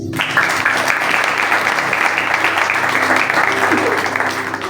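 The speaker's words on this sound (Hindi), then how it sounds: "इनके लिए भी तालियां बजानी।" Sustained applause from a church congregation at a sermon in Karachi, a dense steady wash of clapping lasting the whole stretch with a faint voice briefly underneath.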